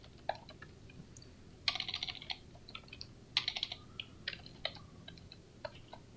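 Keystrokes on a computer keyboard as commands are typed into a Cisco Packet Tracer switch configuration, coming in quick bursts of close, crisp clicks with short pauses between them and no talking.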